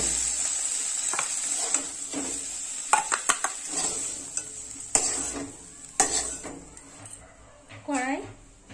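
Cooked spinach is scooped out of a wok over a village cooking fire, with repeated scraping and clinking of a metal spatula against the pan over a soft sizzle, close up, as a voice talks throughout.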